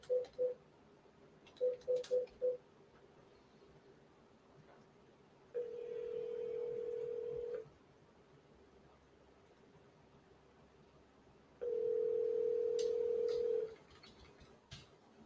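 A telephone call plays short bursts of tones, then two long ringback tones before voicemail, clear and close over a faint quiet background.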